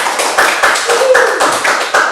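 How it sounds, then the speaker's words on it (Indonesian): A handful of sharp, close hand claps in an irregular rhythm, loud and distinct with brief gaps between them. "Tepuk tangan dulu dong"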